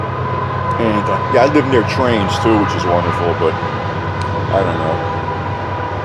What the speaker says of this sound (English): I live near trains too, which is wonderful